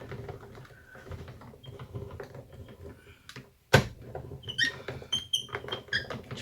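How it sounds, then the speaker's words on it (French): A plastic craft die-cutting machine cranked to cut small paper flowers gives off a burst of thin, high squeaks and creaks after some soft handling clicks, fairly close and loud in a quiet room. "vous allez entendre ma machine couiner pas mal de fois"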